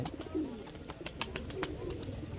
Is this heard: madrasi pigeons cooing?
yes